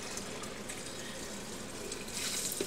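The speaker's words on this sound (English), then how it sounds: "I mix it with water in this pitcher I have." Tap water runs steadily into a pitcher for mixing powder laundry detergent, a continuous gushing hiss that swells slightly toward the end, heard alone.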